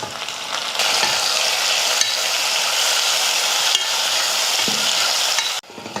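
Tomatoes hit a pan of frying onions with a loud steady sizzle and crackle, with bursts of stirring scrapes, close up and alone, for a sambar made with drumsticks.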